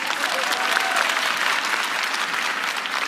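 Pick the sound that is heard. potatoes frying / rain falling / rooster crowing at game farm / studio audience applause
studio audience applause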